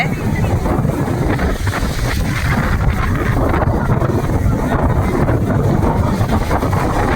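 Strong wind gusting at Tithal beach near Valsad in Gujarat under cloudy skies, roaring steadily into the microphone as broadband rumble with waves and surf mixed in, loud and continuous throughout.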